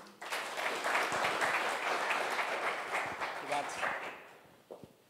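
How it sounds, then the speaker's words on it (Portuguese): Audience applause at a Portuguese-language business talk, a dense wash of clapping that swells quickly and holds steady for several seconds before tapering off near the end, with a few louder isolated claps. "Queria que vocês aplaudissem ele."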